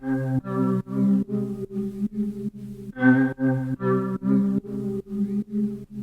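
A synth bell melody with effects switched on, programmed in FL Studio for a dark drill beat, plays alone as a steady run of evenly spaced, ringing tonal notes.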